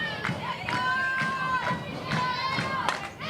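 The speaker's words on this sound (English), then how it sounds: "They're singing, they're chanting," A South Australia softball team bench sings, chants and claps during a qualifying final, with rhythmic group chanting and sung notes from the dugout heard at moderate distance amid crowd noise.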